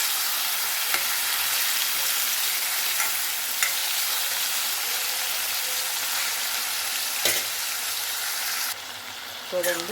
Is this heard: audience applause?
no